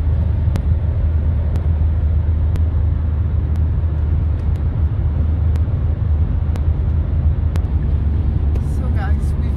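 A car cruises on a long highway road trip toward the French Alps for a spring ski holiday. Steady, loud cabin rumble and road noise run throughout, with faint periodic ticks and a little faint chatter near the end.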